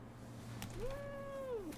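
A single drawn-out cat meow, rising then holding steady before dropping off, sounds close over a low steady background hum.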